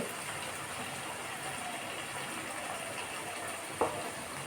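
Chicken curry sizzles in a pan with ghee and green chilli, a steady close hiss that runs evenly, with a single clink of a utensil near the end.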